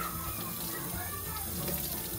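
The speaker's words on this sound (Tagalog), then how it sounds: "And itong sponge na to, hugasan ko muna para ma-sure natin na wala talaga siyang bula." A sponge is rinsed under a running kitchen tap, water splashing steadily throughout with no talk.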